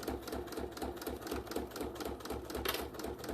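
A sewing machine runs a 4.5-length straight stitch along the side of a vinyl mini bag, a fast, even, mechanical chatter of needle strokes at a steady rhythm, close and fairly quiet, alone.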